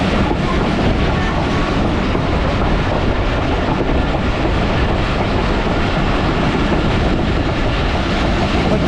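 A Pakistan Railways Awam Express passenger train arrives at Noor railway junction, a loud, steady rumble and roar of the wheels and carriages that fills the whole stretch without any talk.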